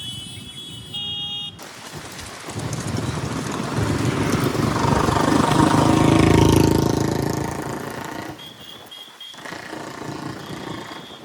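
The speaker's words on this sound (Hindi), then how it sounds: "ये तो यार देखो आंधी शुरू हो गई यहाँ पे" A motorbike rides through a strong windstorm with the helmet visor closed; engine noise and a gusty wind roar build to a peak midway and then fade, with brief electronic beeping at the start and the end.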